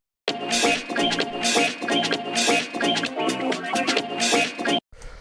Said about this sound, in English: the first sound that we have here is this disco sample